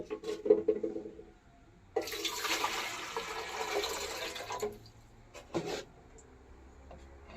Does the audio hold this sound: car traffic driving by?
no